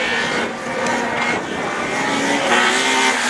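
Rallycross race cars at Lessay in a division 4 heat roar past in a loud, continuous engine blare with rising and falling revs, heard at a moderate distance with no talk over it.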